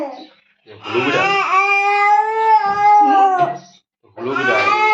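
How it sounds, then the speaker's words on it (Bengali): A tomcat yowls close by in two long, drawn-out wavering wails separated by a short pause. "হুলু বিড়াল।"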